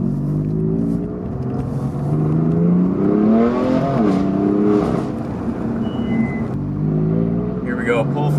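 A BMW F8X M3/M4 with the secondary catalytic converters deleted pulls hard in second gear up a hill, a loud, throaty engine note rising steadily throughout with people talking over it.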